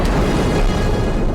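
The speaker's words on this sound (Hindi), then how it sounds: "दक्षिणी लेबनान में कितने भीषण धमाके हो रहे हैं।" Heavy explosions from Israeli airstrikes in southern Lebanon make a dense, continuous rumbling boom that stays loud and unbroken throughout.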